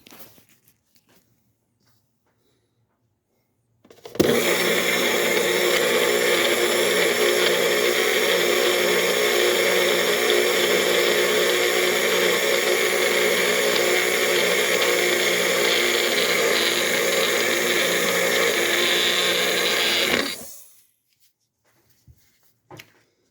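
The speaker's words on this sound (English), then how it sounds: "For this, I am going to use a special blender." A blender motor whirs loudly and steadily for about sixteen seconds after a quiet start, then cuts off abruptly into silence.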